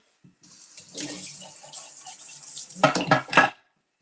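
Tap water runs into a sink as a blender jar is rinsed, a steady splashing wash for about three seconds with a few clinks of the jar near the end, close and fairly loud.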